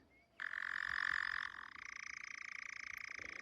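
A male nightjar gives its churring mating call at Bennel Wood: a sudden, sustained mechanical trill that starts loud and close, then shifts into a faster pulsing rattle and continues steadily, with no voices.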